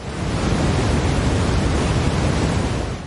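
Dense, steady brown noise, a deep rumbling hiss like distant surf, unchanging and loud throughout.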